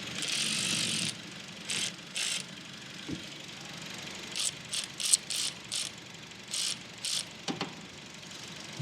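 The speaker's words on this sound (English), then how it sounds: "You need your ratchet." Ratchet clicking while removing a battery from a 2016-2022 Honda HR-V: short bursts of close, crisp ratcheting with brief pauses between strokes, over a quiet background.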